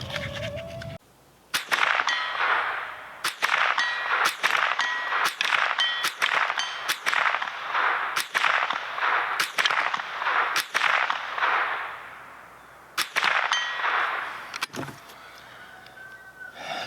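American Eagle rounds fire in a fast string of sharp, loud gunshots, about a dozen cracks spaced roughly half a second to a second apart, each echoing briefly, with a short pause near the end.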